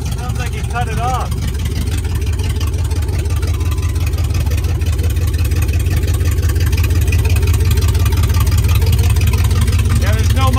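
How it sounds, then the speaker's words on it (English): A Dodge car with no muffler runs loud and close, its raw engine rumble steady and throbbing throughout, while people talk over it. "there's no muffler on it, so. Oh well, it started"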